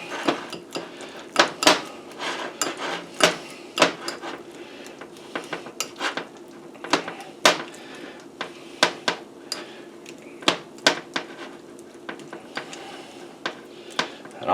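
Slabs of cranberry jelly get chopped and mashed in a dish with a utensil, a close series of sharp irregular clicks and taps against the container over a faint background hum.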